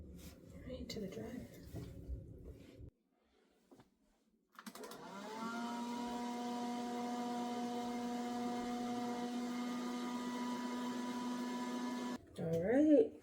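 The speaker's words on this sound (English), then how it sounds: "I'm gonna sit under a heated dryer for" A heated hood hair dryer runs as a steady, loud whirring hum with a constant tone for about eight seconds, after a stretch of talk and a pause, before speech returns at the end.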